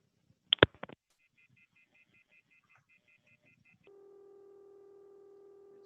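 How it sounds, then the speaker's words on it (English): Telephone call progress tones on an MF phone network: a short burst of clicks and tones, then a steady pulsing high beeping, giving way to a continuous lower buzzing ring with a faint off-hook tone layered over it. "there's actually an off-hook tone bleeding on top of the ringing there"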